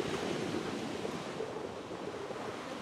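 Ocean waves at a beach, a steady, broad rush of surf with some wind noise, constant and moderately loud with no distinct breaks.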